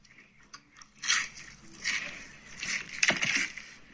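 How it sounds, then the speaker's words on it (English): A close bite into a crunchy Raising Cane's fried chicken tender gives several sharp crunches followed by wet chewing, quiet and near. "Here's the audio of a Raising Cane's chicken tender bite."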